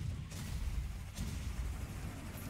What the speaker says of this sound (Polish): Dynamit wybuchł, no. I zginąłem od dynamitu.